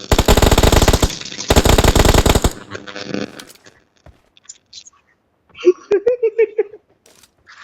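Loud, rapid automatic gunfire from PUBG Mobile in two dense bursts at the start, then scattered quieter shots and game noises, with a sharp final volley and fading clatter.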